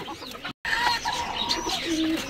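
A small Japanese bantam and Serama chicken make soft cooing and chirping calls close by, short and fairly loud, with a brief gap near the start.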